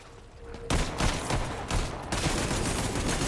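Rapid, machine-gun-like bursts of gunfire in the video game Hell Clock, loud and sustained, with dense crackling shots filling the stretch after a brief quiet opening.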